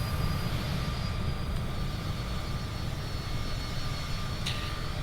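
Steady, loud, unbroken drone of a light aircraft engine in cruise over Sri Lanka, heard from inside the cabin with a dense low rumble and no pauses.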